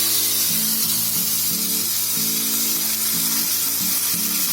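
Wheat flour batter spooned in small portions onto a hot griddle, frying with a steady, close sizzle throughout while a low hum from music or background noise runs underneath.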